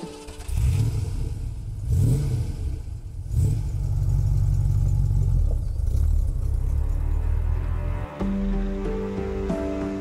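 The cast-aluminum V8 engine of a 1956 BMW 503 convertible rumbles and revs loudly, rising and falling in pitch several times, then settles into a steady, throaty idle.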